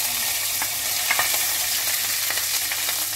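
Green chillies frying in hot oil with whole garam masala and bay leaves, a steady close sizzle with a few faint stirring scrapes and no talk.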